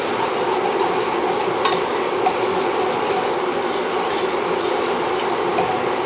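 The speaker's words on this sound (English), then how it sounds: "We'll just whisk it all." A pumpkin gummy mixture whisked until smooth, a dense, even swishing and rubbing that runs steadily and close with no pauses and no voices.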